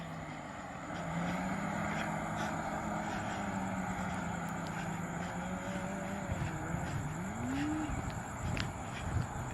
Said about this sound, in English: Hear that damn supercharger spooling.